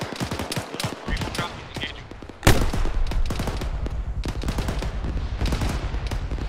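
A rocket launcher fires during video game platoon training: one sharp, heavy blast cuts through bursts of rapid gunfire, all loud and close, while voices call out under the shooting.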